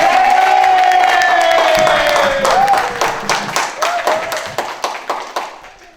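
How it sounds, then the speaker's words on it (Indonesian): An audience applauds at a safety-briefing competition held at a community health centre for Indonesian Independence Day. The clapping builds from a steady crowd roar into scattered, distinct claps that thin out and fade, with a voice briefly audible over it. "kita beri aplaus sekali lagi"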